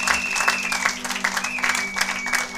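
A church congregation claps in a brief burst of applause, with a steady tone humming underneath the loose, rhythmic clapping.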